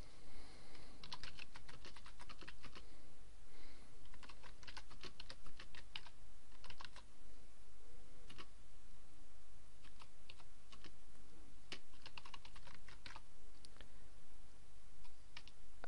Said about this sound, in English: And then I'm going to type a bit of text in.